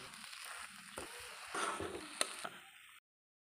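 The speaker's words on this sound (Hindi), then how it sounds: "हमें आलू बहुत टाइम तक पकाना नहीं है, सिर्फ एक मिनट ही पकाना है" Boiled potatoes cooking briefly with spices in a pan, giving a soft, steady sizzle with a few scraping stirs before ending abruptly.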